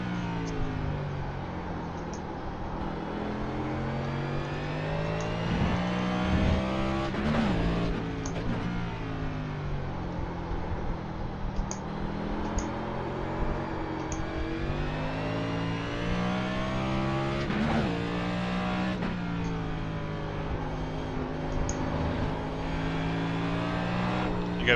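A 4,000-pound race car's engine in a racing video game drones and revs continuously, rising and dropping in pitch through throttle changes and gear shifts, loud and close throughout.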